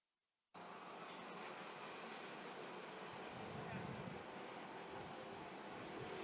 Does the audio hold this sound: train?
yes